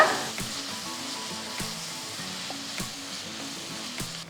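Onions sautéing in a pan for a tomato egg curry, a steady soft sizzle with a few sharp clinks of a spoon against the pan at regular intervals, close and fairly quiet, with no talking.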